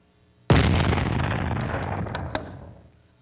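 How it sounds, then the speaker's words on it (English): One loud, abrupt gunshot sound effect booms through a junior high school stage play, its sharp blast decaying over about two seconds in the hall's reverberation, with no talk over it. "Oh my God, Peter's been shot."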